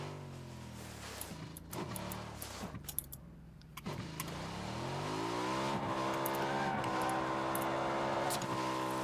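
A car engine in the battle royale game PUBG cranks and catches, then settles into a steady, loud rising drone with harmonic sweeps as it revs, heard alone with no talk over it.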